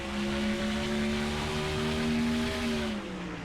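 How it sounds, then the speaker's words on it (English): A Honda race car engine at New Hampshire screams along the track in a sustained, loud, high-pitched drone, its pitch rising slightly and holding, then easing near the end. "just listen to the engine sing."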